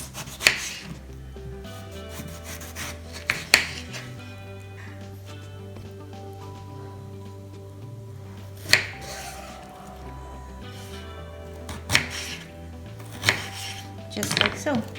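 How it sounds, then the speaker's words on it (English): A knife slicing potato into French fries on a cutting board, several sharp knocks of the blade against the board spaced a few seconds apart, over a steady low kitchen hum and faint tonal background. "And then turn the side, start cutting vertically."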